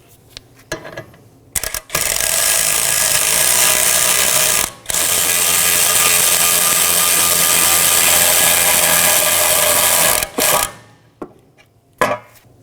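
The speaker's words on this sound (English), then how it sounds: "Now fully insert it in with your ratchet." A hand ratchet drives a bolt into the rear upper control arm of a 2018-2024 Toyota Camry, clicking in long, steady runs that are close and loud, broken by a brief pause and trailing into scattered clicks.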